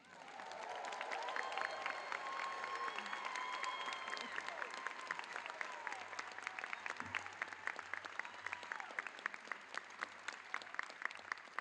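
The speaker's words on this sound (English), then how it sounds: "Please join me in honoring their accomplishments with wild applause." A large graduation ceremony crowd breaks into sustained applause with cheering, a dense wash of clapping that holds steady for several seconds before thinning into more separate claps, heard at a distance in a big venue.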